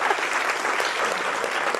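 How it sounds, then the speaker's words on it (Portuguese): An audience bursts into a round of applause, dense and loud, a brief continuous wash of many hands clapping together at the same level throughout. "Uma salva de palmas para ele"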